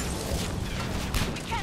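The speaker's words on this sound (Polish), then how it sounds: "O, ale wybuch piękny." A booming explosion in Mass Effect 3, a dense rumbling crash with a swooshing burst near the end, moderately loud and without talk.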